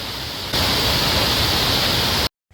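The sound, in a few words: Shenbagadevi waterfall, Tamil Nadu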